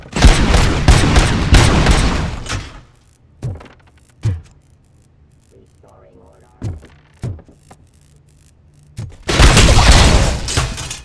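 ED robots in RoboCop: Rogue City open fire in loud, heavy automatic bursts. The shooting stops, leaving isolated thuds and a brief voice in the gap, then a second intense volley breaks out near the end.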